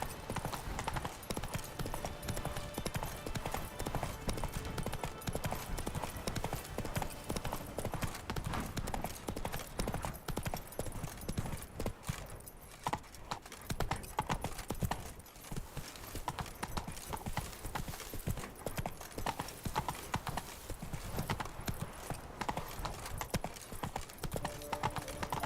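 Roach, a horse in the video game The Witcher 3: Wild Hunt, gallops in a continuous fast clip-clop of hooves, steady and close throughout, with faint game ambience underneath.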